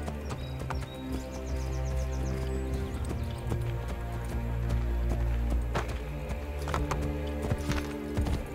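Horse in the video game Assassin's Creed Brotherhood, steady clip-clop of hooves with a neigh, set against a low droning game score and scattered sharp clatters, fairly loud throughout.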